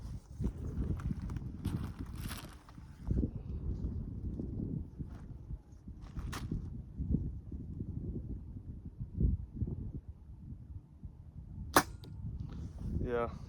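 A stock arrow is loosed from a Sanlida Dragon X9 compound bow during paper tuning, giving a few sharp snaps and thwacks against a low, rumbling background with faint movement between the shots.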